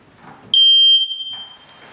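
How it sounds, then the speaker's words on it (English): A smoke detector is tested during a Section 8 housing inspection, giving one loud, piercing electronic beep that lasts under a second, with quiet room sound before and after. "Next, we're going to be checking smoke detectors."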